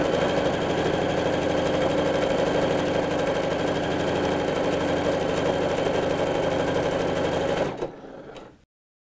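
A sewing machine runs steadily at a fast even pace, stitching a hem seam on a kimono-style blouse, loud and close, then slows and stops near the end.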